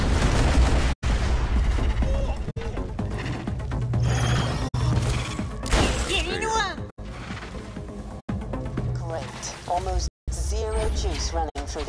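Turret gunfire in Borderlands The Pre-Sequel, dense bursts of loud shots and booms with brief cutouts between them, mixed with game effects while people talk over the action.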